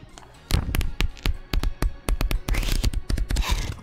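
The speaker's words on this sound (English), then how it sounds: "Paper ASMR." Sheets of paper are shuffled and rustled close up, a loud, irregular series of sharp crackles and flaps in quick bursts, with no voice over them.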